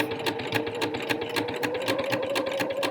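A sewing machine runs steadily while stitching a t-shirt side seam down toward the hem, its needle ticking in a fast, even rhythm at close range with no voices.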